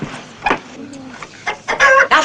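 A chicken clucks and crows nearby, loud, with scattered short clucks building into a strained crowing call toward the end.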